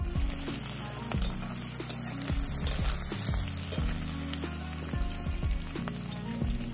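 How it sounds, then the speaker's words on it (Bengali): Sliced onion and bay leaves fry in hot mustard oil in a kadhai, giving a steady, close crackling sizzle throughout, with occasional clicks from stirring and no talking. "তেলটা গরম হয়ে গেলে ওর মধ্যে তেজপাতা আর পেঁয়াজটা দিয়ে দেবো।"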